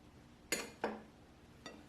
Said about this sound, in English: let's get my chickpea patty out of my toaster oven and set it right here